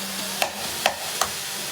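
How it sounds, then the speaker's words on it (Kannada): Tomato and ginger garlic paste sizzle quietly in coconut oil, with a steady faint fry broken by three soft clinks of a utensil stirring the pan. "ಚೆನ್ನಾಗಿ ಫ್ರೈ ಮಾಡ್ಕೊಳ್ಳಿ. ಟೊಮ್ಯಾಟೊ, ಜಿಂಜರ್ ಗಾರ್ಲಿಕ್ ಪೇಸ್ಟ್ ಹಾಕ್ಕೊಂಡು ಮಿಕ್ಸ್ ಮಾಡ್ಕೊಳ್ಳಿ."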